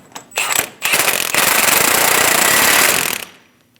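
A pneumatic impact wrench snugs an axle nut onto a front CV axle of a 2001-2006 Chevrolet Silverado 2500 HD, two short bursts then a loud sustained hammering rattle lasting about two seconds, close up.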